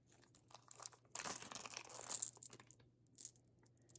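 A small plastic bag holding eight round 12 mm Druk beads is handled up close, with soft crinkling rustles and a louder burst of crumpling in the middle, then a few quieter crinkles.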